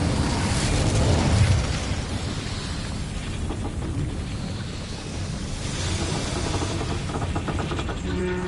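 Incendio fire spell cast in a Hogwarts Legacy battle, a loud roaring whoosh of flame that swells early and settles into a sustained rushing, crackling burn.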